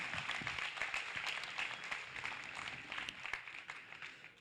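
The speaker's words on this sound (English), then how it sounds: "Let's give all the young folks that showed market steers here a round of applause." A crowd applauds at a fat steer show, with steady, dense clapping throughout, moderately distant and filling the whole stretch.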